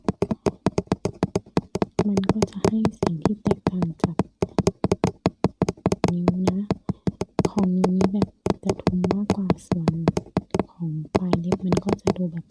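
Rapid, steady clicking taps of fingernails on a wooden surface, continuing for several seconds with a few short pauses.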